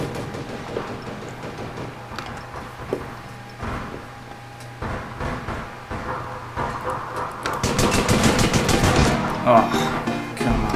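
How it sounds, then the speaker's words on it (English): Video game gunfire from several players, scattered single shots early on building into heavier, sustained automatic fire near the end, with a voice talking over parts of it. "I don't even know how many people was that shooting at me."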